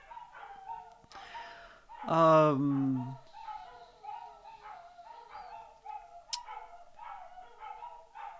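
Dogs bark and yip in the background, with one loud drawn-out yelp partway through, while a person speaks briefly over the noise.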